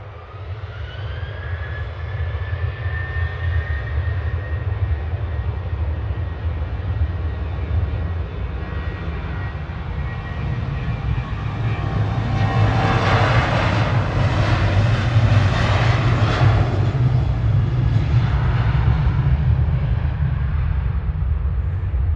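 Airliner engines roaring at Manchester Airport as a Ryanair jet lines up on the runway, a loud steady rumble with a whining tone that swells and grows louder partway through, no voices heard.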